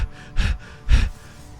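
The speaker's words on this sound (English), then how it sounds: "I know you're trying to go for like the paranoid kind of heavy breathing." Two sharp, close gasping breaths from a person, heavy and panicked, separated by short pauses with faint background noise.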